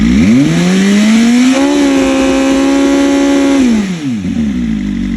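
BMW M1000RR motorcycle engine with aftermarket exhaust revving up to a high, sustained scream at 8000 RPM, holding loud and steady around 111 decibels before dropping back toward idle.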